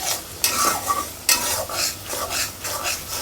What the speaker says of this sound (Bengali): তেলে নেওয়া জিরা গুঁড়া দিলাম